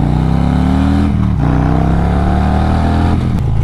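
A 2024 Harley-Davidson motorcycle revs loudly up close, its deep engine note climbing steadily with a brief throttle dip midway, then easing back.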